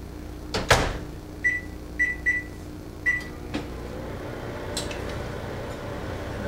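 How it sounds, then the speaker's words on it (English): A microwave oven heating peanut brittle gives a thud from its door closing, then several short, clear beeps, then a low steady running hum, all close by with no talking. "I'm going to go ahead and put this one in the microwave"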